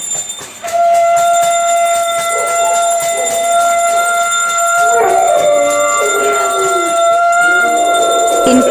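A dog howls in long rising and falling cries over loud, ringing metallic clatter of plates and bells banged on rooftops, with several overlapping tones from near and far.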